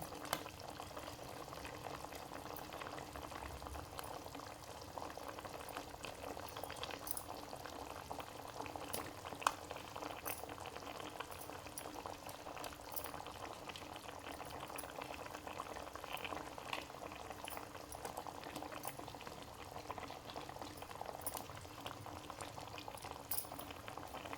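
A pot of Andhra fish curry with drumsticks simmers quietly. Soft, continuous bubbling goes on for the whole stretch with faint scattered pops, low in level and without voices.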